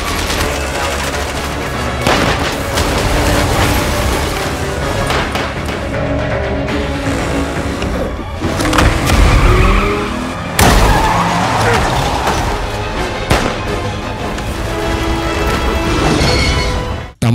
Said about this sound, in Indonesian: Hingga saat kereta mulai kehilangan kendali, Six berhasil melompat ke mobil Miranda sebelum akhirnya kereta menghantam bangunan